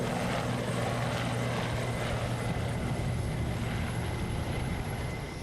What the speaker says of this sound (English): On board the Ark was a squadron of early warning Sea King helicopters operating in a surveillance role.